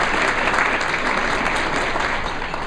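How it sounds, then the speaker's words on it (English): An audience at an annual dinner applauds, a steady broadband patter of many hands clapping at moderate loudness, even and sustained without voices. "Give yourselves a round of applause."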